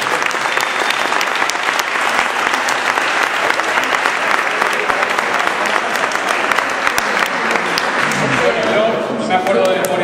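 Audience applause at a company presentation and award event, a dense, loud, continuous burst of many hands clapping that runs nearly the full length before tapering off at the end.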